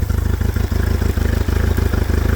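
A 1999 Honda 90hp in-line four-cylinder four-stroke outboard with four carburetors runs at a loud, close idle, its rapid pulsing beat steady and even throughout.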